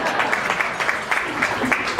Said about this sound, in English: Give a round of applause, Darren.